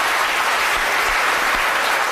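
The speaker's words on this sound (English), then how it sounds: "It's a big round of applause." Loud, continuous audience applause fills a science lecture hall, with dense, even clapping throughout and no voices.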